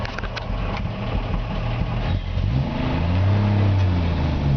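A 1953 Ford F-100 pickup with its original matching-numbers six-cylinder engine hums and drones while driving, and the engine note climbs and steadies as it pulls along with nobody talking.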